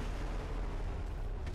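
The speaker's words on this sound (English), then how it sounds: "I heard gunshots." Heavy, continuous low-end rumble of game gunfire and blasts, dense and booming throughout with no clear pauses.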